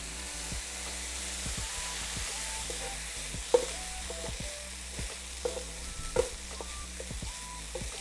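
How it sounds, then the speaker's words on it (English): Cauliflower fried rice with vegetables and soy sauce sizzling in a pan as it is mixed, a steady crackling hiss broken by a few louder scraping stirs, close and without talk. "I'm gonna put it directly into my pan. Let's mix all of this together."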